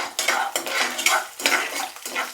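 Thinly cut garlic goes into two tablespoons of oil in a kadai, with repeated scraping and clinking of a metal spoon against the pan over a soft sizzle in short, rhythmic strokes.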